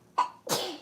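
One close, sudden sneeze: a quick sharp intake followed by an explosive, breathy burst, alone in a quiet room.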